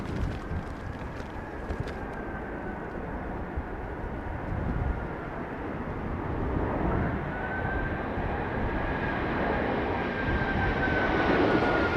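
Airbus A380 airliner at London Heathrow during a windstorm, its steady engine roar building slightly over twelve seconds with a faint whining tone, mixed with broadband wind rumble and no talking.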